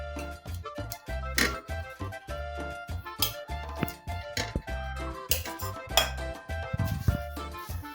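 A metal spoon stirs herbs and greens into tomato sauce in a cooking pot, scraping and clinking against the sides in a steady, repeated rhythm with fairly close, bright knocks.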